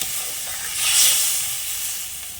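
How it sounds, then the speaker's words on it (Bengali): Fish curry sauce bubbling in a pot at home, a steady close hiss with a gentle swell of sizzling steam in the middle, no voices. "সেই যে দেখুন ঝোলটা কিন্তু ফুটে গেছে"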